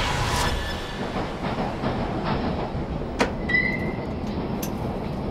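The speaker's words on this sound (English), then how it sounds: "Stop the train." A train rumbles steadily through a tunnel, with a continuous low roar of wheels and a brief metallic squeal partway through, heard alone without voices.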